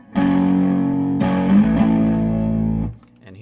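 Electric guitar played through a Catalinbread SuperCharged OD overdrive pedal at low gain, a sustained gritty chord ringing out, then a second strum that fades away.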